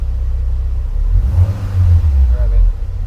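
A 2004 Subaru STi engine, fitted with an EFR7670 turbo and an EMtron ECU during tuning, rumbles loud and close, its deep low growl swelling as the revs climb midway, then dropping back near the end.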